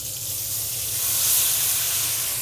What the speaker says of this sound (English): this is good to deglaze the pan with it